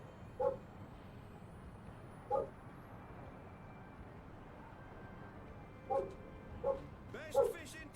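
A dog barks in the video game Dreamfall, five short yaps spread across the scene, moderately close, over a low murmur of ambient background.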